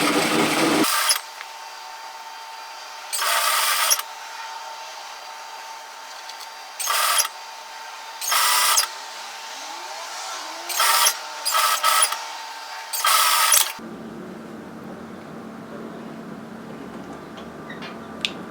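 A home sewing machine stitches raw edges of hoodie fabric in several short bursts of whirring, separated by quiet pauses, close and moderately loud.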